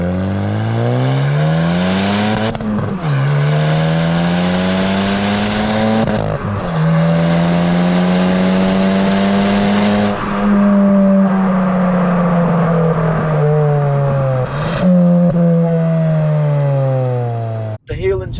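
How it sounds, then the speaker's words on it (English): Hyundai i20N hot hatch with CTC Performance exhaust pulls hard through the gears, the loud engine note rising in long sweeps, dropping at each shift, then climbing again, with exhaust roar up close. "If you accelerate, there's some more noise there."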